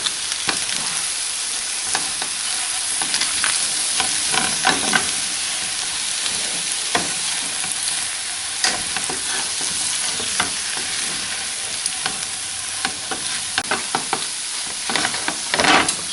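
Tongs toss and stir a cheesy skillet dinner topped with chives as it fries, a continuous bright sizzle broken by frequent sharp clacks and scrapes against the pan.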